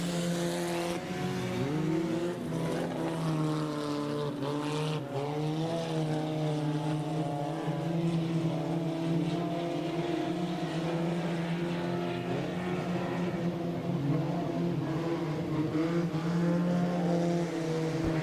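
Several junk race cars roar around an oval track in a close three-car duel, a continuous loud, droning engine blare with rising and falling pitch as they pass, no voices.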